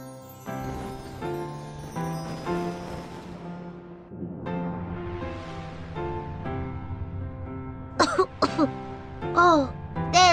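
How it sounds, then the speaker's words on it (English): Repeated coughing and throat clearing from a child in an animated kids' cartoon about water pollution, set in smoky, noisy surroundings; several coughs come in bursts amid background music and chimes. "Yes, you're coughing because of the smoke."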